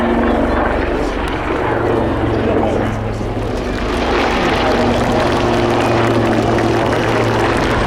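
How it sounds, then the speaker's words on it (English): A Lynx helicopter hovers nose-down at the RAF Cosford airshow, its loud, steady rotor and engine roar filling the air with a throbbing drone while an announcer talks over it. "As the Lynx comes into the hover, and the big nose down,"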